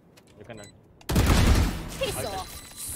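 Gunfire in the shooter game Valorant, a sudden loud burst of rapid shots that starts abruptly after a quiet moment and rolls on for a couple of seconds, with a player's voice before and over it.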